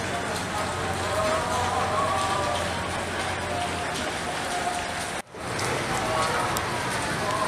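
Rain falls steadily with a dense, even hiss and patter, briefly dropping out for a moment near the end before resuming, at night in flooded Banda Aceh.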